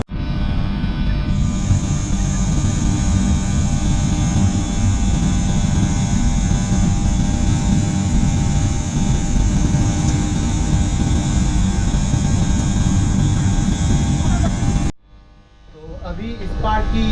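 Rajdhani Express train overtaking at speed, a loud sustained roar and rumble with a steady high whine that runs on, then drops abruptly near the end into quieter rattling.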